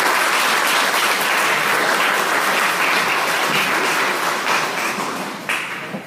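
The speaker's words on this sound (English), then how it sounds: "Please give yourselves a round of applause" A large audience applauds steadily at an evening lecture event, a dense, sustained wash of clapping that holds for several seconds before thinning slightly at the end.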